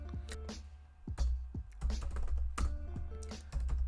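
Computer keys clatter in quick irregular bursts as someone types a command at a desk, close and clear.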